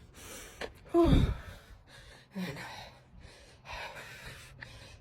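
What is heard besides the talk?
heavy breathing while fast walking a timed mile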